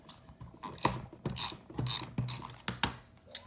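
A glue runner adhesive tape dispenser rolls across paper for a favor purse craft, giving a close, quiet series of ticking, ratcheting clicks and soft scrapes.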